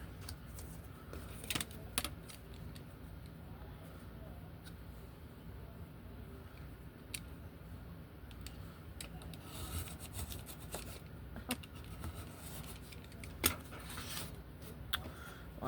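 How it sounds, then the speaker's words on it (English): A blade cutting the edge off a 12x12 sheet of craft paper: quiet, steady rasping and scraping strokes with a few sharper clicks, faint and close, with a low background hum and no voices. "let's cut that edge off."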